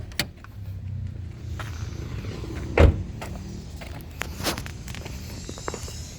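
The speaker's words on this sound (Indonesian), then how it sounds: "Kita coba buka kap mesinnya di bawah sini ya." Engine hood of a Nissan March being opened, a faint hood-release latch click followed by a sharp thump and a few small clicks, with quiet shuffling nearby.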